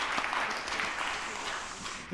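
Church congregation gives encouraging applause at a Sunday afternoon service, soft steady clapping from a crowd that holds for about two seconds before fading.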